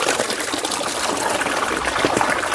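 Water pump motor pushing water that pours out in a steady trickling, gushing stream, close and continuous with no talk, during a village family mehendi gathering.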